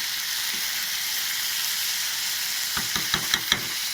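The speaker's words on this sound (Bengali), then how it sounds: "এখানে ডিমটা পেঁয়াজ রসুন আদা নুন হলুদ দিয়ে কষানো হয়েছে।" Egg frying in a pan with onion, garlic, ginger, salt and turmeric gives a steady close sizzle and hiss, with a few quick stirring scrapes near the end.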